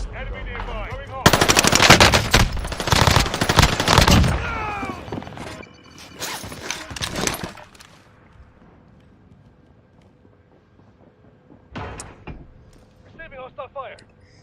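Gunfire in Call of Duty Warzone on Rebirth Island or Caldera: loud automatic machine-gun bursts and shots crowd the first seconds, then sporadic clatter and a later short burst, with game voice lines mixed in.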